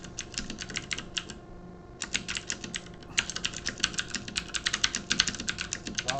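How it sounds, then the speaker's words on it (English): Fast, continuous typing on a computer keyboard, close and crisp, with steady runs of keystrokes broken by brief pauses, heard alone with no talking over it. "I keep hearing typing."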